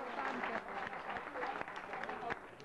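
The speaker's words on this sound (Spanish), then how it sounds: "Denis, por lo tanto pido para él un aplauso" An audience at a gathering of retirees gives scattered, fairly faint applause for a man named Denis, steady clapping with a few sharper claps standing out, and some voices murmuring underneath.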